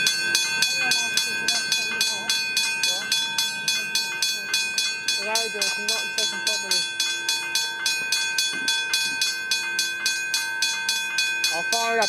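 A Westinghouse hybrid bell at the Royal Park railway crossing rings in a fast, even rhythm of sharp metallic strikes, loud and close throughout, with faint train and rail noise underneath.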